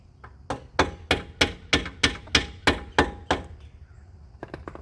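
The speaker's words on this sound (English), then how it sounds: "Tap the back with a hammer and watch the tip come out the front." Sharp metallic hammer taps on the back of a brake part during a brake job on a 2017 Camaro SS, about ten evenly spaced close blows over four seconds, then quieter light taps at the end.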